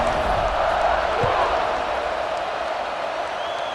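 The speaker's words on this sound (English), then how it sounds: "this crowd now ready to get behind them" Stadium crowd in the College Football 26 video game roars in a broad, steady wash of cheering that holds for several seconds before easing slightly, with a commentator's voice faintly underneath.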